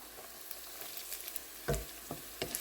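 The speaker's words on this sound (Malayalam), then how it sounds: "ഇനി നമുക്കൊന്ന് വഴറ്റിയെടുക്കാം വെളുത്തുള്ളി ചെറുതായിട്ടൊന്ന് വെന്ത് തുടങ്ങിയിട്ടുണ്ട്" Garlic and ginger sautéing in a pan for dry mango pickle give a faint, close crackle with scattered sharp pops and a few louder stirring clicks.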